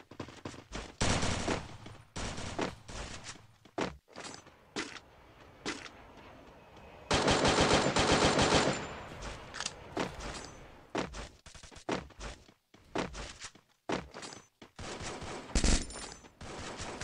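Rapid video game gunfire from a Free Fire squad championship match, bursts of automatic shots and single cracks in irregular clusters, with one long sustained volley in the middle, loud and close.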